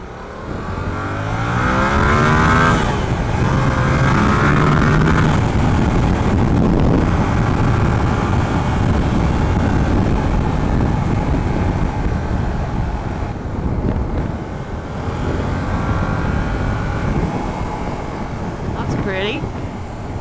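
A small-engine Yamaha motorcycle revs on an open road, its engine note rising and falling steadily with heavy wind rush throughout and people talking over it.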